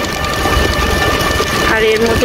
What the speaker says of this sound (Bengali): আর এর মধ্যে শুরু হলো বৃষ্টি।